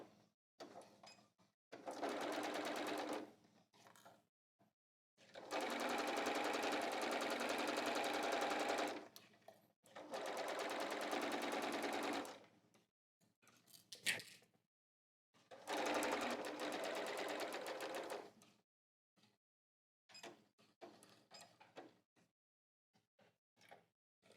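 Stitching a pants pocket with a straight stitch, including a reverse pass, the sewing machine runs in four separate bursts of a few seconds each, separated by quiet pauses and small handling clicks.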